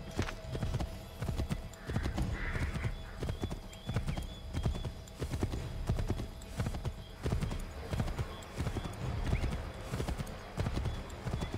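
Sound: horse hooves clip-clopping, from the video game Assassin's Creed 3

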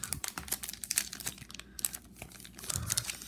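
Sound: opening a Topps Star Wars card pack wrapper

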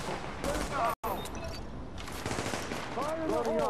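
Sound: gunfire in video game The Division

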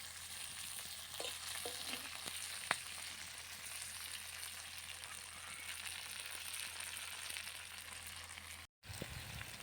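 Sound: green chillies and garlic frying on a wood stove

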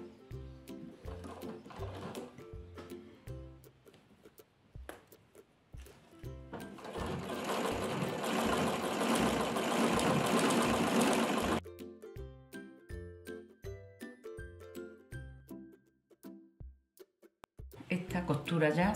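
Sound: sewing machine stitching a dress seam

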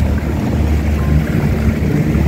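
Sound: private speed boat on Lake Como

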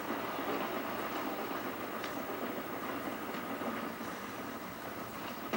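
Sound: train passing in a video game

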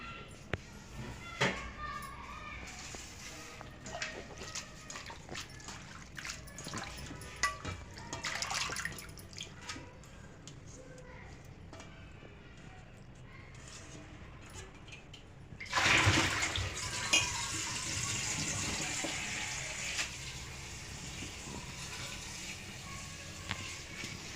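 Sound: washing grains in water

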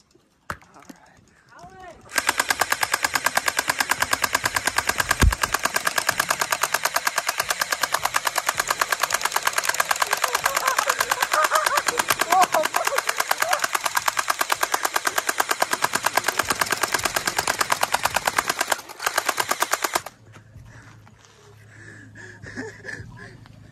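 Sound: Orbeez gel blaster guns shooting

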